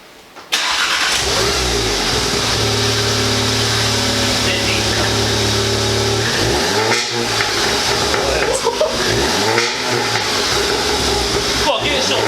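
Volkswagen Golf R with a resonator delete and decat starts up, then idles loudly up close before several sharp revs that rise and fall repeatedly, with voices talking faintly underneath.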